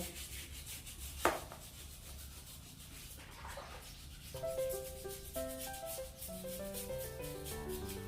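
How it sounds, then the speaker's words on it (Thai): A firm-bristled brush scrubs slowly and gently against a surface in soft, steady rubbing strokes, close up, with music coming in underneath for the second half. "ใช้แปรงนี้ค่ะ ค่อยๆถู"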